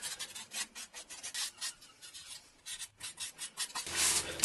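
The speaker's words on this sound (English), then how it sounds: "I'll just sand it up. I'm just going to use some 240 grit" A bent wood hip flask is sanded by hand with 240-grit sandpaper, giving close, rhythmic scratchy rubbing strokes in short bursts with small pauses between them.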